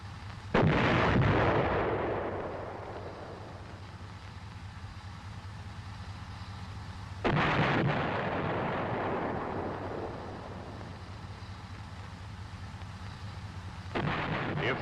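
M551 Sheridan tank main gun firing HEAT rounds, three heavy booming blasts spaced several seconds apart, each with a long rolling echo over a low engine rumble.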